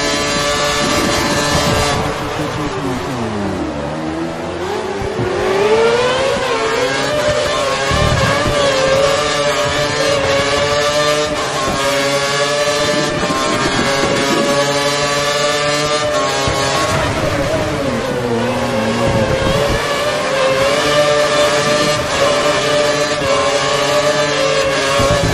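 Several F1 2013 racing cars rev and shift loudly in the Bahrain Grand Prix, with dense, rising and falling engine whines layered together throughout, interrupted by brief gear-change dips. Pit radio talk is faintly present.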